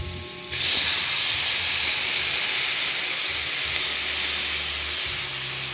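Tilapia fish mixture dropped into a hot pan bursts into a loud, steady sizzle after a brief quiet start, a broad hiss that holds and slowly eases over several seconds.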